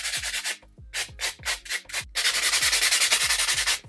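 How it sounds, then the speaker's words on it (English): Nail buffer rubbing over builder gel nails, close rhythmic back-and-forth scrubbing strokes, several distinct passes at first then a quicker, steady run of strokes, no voices. "I don't know if buffing it that way really matters."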